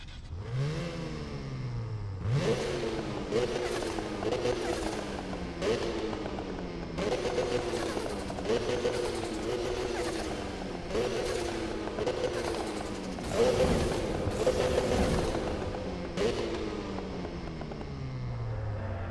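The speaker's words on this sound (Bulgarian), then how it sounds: "Този двуроторов двигател и типичното брап, което получаваме с този двигател и тази конфигурация." A twin-rotor rotary engine in an 800-horsepower touring car in Need for Speed 2015 revs repeatedly, each loud brapping rise dropping sharply before the next, in steady close-up bursts with no talk.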